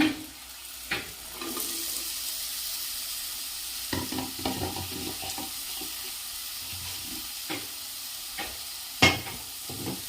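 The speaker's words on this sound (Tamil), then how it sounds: "போட்டு நல்லா வதக்கி விட்டுக்கோங்க." Chopped capsicum sautéing in a pan for chilli thokku, a soft continuous sizzle broken by intermittent scraping stirs and a few sharp clinks of the spoon on the pan, close and without speech.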